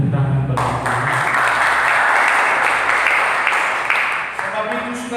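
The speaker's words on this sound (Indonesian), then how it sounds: "Dengan tepuk tangan bagi Tuhan" Congregation applause fills a church service, a dense, steady wash of clapping that swells after a short opening voice and holds loud for several seconds before easing slightly at the end.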